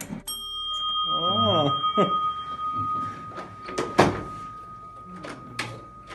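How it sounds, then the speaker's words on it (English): An original doorbell in a historic house chimes with a ringing tone that lingers, while people talk over and around it. "People ring the doorbell."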